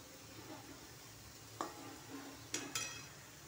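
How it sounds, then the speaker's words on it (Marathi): Chopped onion cooks for matar paneer in a pan, giving a low steady sizzle with a few sharp clinks of a spoon against the pan as it is stirred, close and fairly quiet. "आणि इकडे भाजत आहे हा कांदा"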